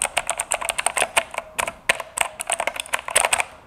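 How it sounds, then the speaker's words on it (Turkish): Typing on a Razer BlackWidow V3 mechanical keyboard held close to the microphone: rapid, crisp clicking keystrokes in quick uneven bursts with brief pauses, loud and alone. "bu klavyede biraz ses çıkıyor. Hatta ben susayım, şöyle biraz da mikrofonuma yaklaştırayım klavyeyi."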